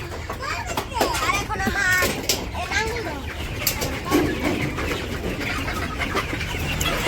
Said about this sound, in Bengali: কোয়েল পাখি ডিম পারছে পারছে